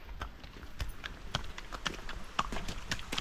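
A horse's hooves clip-clop along a hard path, the sharp irregular strikes spread across the stretch, fairly close, over a low background hum.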